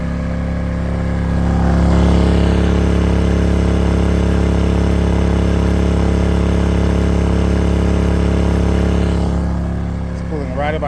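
A Konner & Sohnen 2000-watt dual fuel inverter generator runs steadily while powering a 13,500 BTU RV air conditioner, giving a loud, even engine drone with a constant hum and a slight rise in level near the start.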